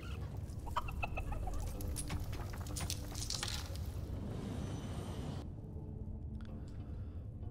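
Chickens cluck steadily in the video game Dungeons 4, a dense, continuous flock sound with scattered sharper squawks layered over low game ambience, fairly loud and unbroken throughout.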